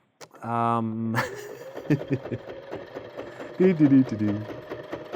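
A Presto II sewing machine stitching a pant hem, with a steady whirring motor buzz in a short run that stops, followed by lighter mechanical clicks and another brief burst, heard close beneath a person talking.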